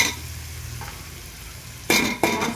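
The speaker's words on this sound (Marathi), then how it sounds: "आणि आता हे हलवत आहे। पुदिना पण टाकलाय" Veg pulao with mint being sautéed in a pan: a quiet stretch, then two short, close bursts of stirring and sizzling near the end.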